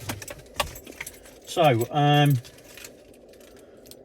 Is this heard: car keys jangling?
yes